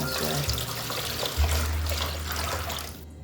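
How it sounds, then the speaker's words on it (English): Water dumped from a container in a kitchen, a continuous loud gushing pour that runs for about three seconds and then cuts off. "It would just be faster if Mommy can dump the water in this way."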